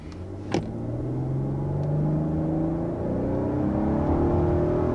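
A 2023 Kia Carnival minivan engine revs up and pulls hard, its pitch climbing steadily as the vehicle accelerates, heard from inside over a low rumble.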